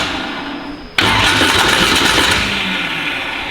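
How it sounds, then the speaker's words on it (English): A 1500hp twin turbo street car engine cranks for about a second, then catches abruptly and roars into a loud, rough, steady run close by. "Just go ahead and crank it."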